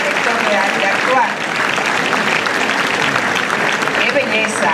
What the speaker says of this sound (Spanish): la directora de este teatro, Daisy Estable, para quien pedimos un aplauso